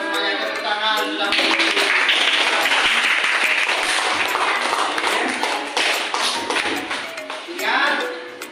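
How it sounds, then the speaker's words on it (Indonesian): Primary school pupils clap together in a classroom, a loud burst of mixed clapping that holds steady for several seconds before thinning out, with voices underneath and a little speech at the start and end. "semuanya tepuk tangan"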